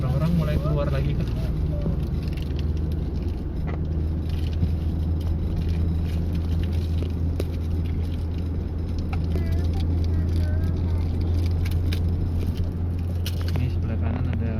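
Steady road traffic on an Indonesian highway, heard from inside a moving car, with a constant low engine and tyre rumble and wind noise, and passing cars and motorbikes blending into a continuous drone. Talk is heard throughout.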